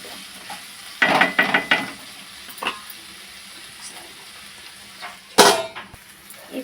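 Vegetables and ginger stirred in a pan, giving a few scraping, clattering bursts of spoon against metal amid a soft frying hiss, with quiet gaps between the strokes.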